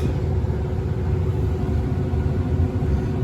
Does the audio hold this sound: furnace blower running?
yes